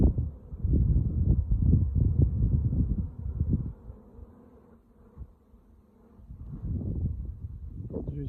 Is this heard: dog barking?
no